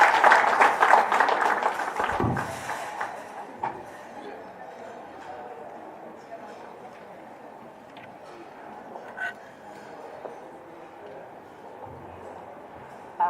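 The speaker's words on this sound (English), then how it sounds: "A round of applause" An audience at a women in maritime day event in Kisumu applauds a speaker's welcome with a burst of clapping over the first few seconds, which then dies away into quieter room sound.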